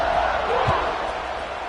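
A football stadium crowd buzzing after a score in the fourth quarter of a college game, a dense roar under a play-by-play announcer's voice.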